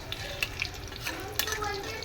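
Banana chips frying in hot oil as a little salt water is splashed in, giving scattered sharp crackles and spits over a steady bubbling hiss, heard close up with no talking.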